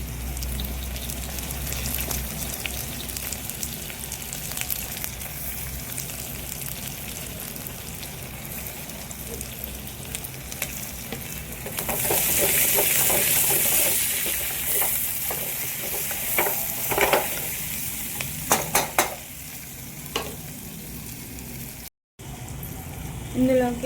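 Onions fry with mint in a pan, a soft steady sizzle that swells into brighter, louder crackling and stirring scrapes midway, then eases before a brief cut near the end.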